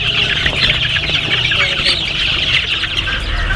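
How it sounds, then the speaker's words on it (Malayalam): Cobb breed broiler chickens on a farm, a dense flock clucking continuously and fairly loudly, with no pauses throughout. "അത് കോബ് ഇനത്തിൽപ്പെട്ട കോഴിയാണെന്ന് പറഞ്ഞത്."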